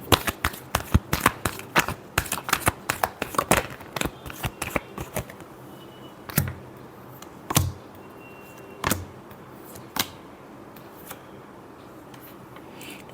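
Tarot cards are shuffled in a quick, dense run of crisp riffling snaps up close, then a handful of separate slaps and taps spaced out toward the end.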